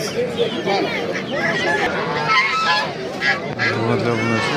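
Geese honk repeatedly at a busy poultry market in Namangan, their calls mixed with crowd babble and people talking close by.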